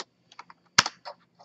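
A web address is typed on a computer keyboard: several crisp, close keystrokes in an uneven rhythm with short gaps, one louder clack in the middle, and no talking.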